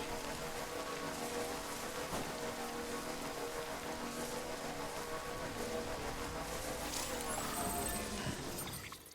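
Steady rain pours in the Death Stranding video game, a dense, even hiss of drops on surfaces that holds for about nine seconds before tapering off at the very end.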